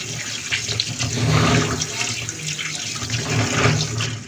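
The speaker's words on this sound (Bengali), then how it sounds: "প্রথমেই কাঁঠালের বিচিটাকে খুব ভালোভাবে ধুয়ে নিতে হবে।" Running tap water splashes steadily over jackfruit seeds being washed by hand in a sink, a continuous close rush with small swells in volume and no talking.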